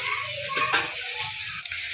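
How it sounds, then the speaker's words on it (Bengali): Six pabda fish frying in a pan of oil, giving a steady close sizzle and spatter with no voices. "ভাজা হচ্ছে"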